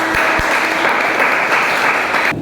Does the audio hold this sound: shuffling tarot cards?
no